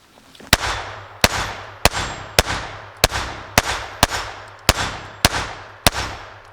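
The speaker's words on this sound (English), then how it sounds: "Now the Taurus Tx22 with the Cci Blazers." A Taurus TX22 .22 pistol fires CCI Blazer rounds in ten sharp, loud shots at a steady pace of about one every half second to second, each crack trailing a short ringing decay, with no talk.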